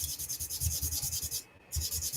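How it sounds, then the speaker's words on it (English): Sandpaper rubbing two plastic model kit pieces together, rapid rhythmic back-and-forth strokes, close and clear, with a brief pause before resuming. "I like sanding both pieces at the same time"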